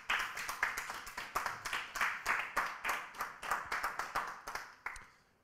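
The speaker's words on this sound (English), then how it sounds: "Big round of applause for James," A small audience applauds at the close of a talk by James at an IW22 event, with crisp, distinct hand claps in a steady uneven patter that thins and stops near the end.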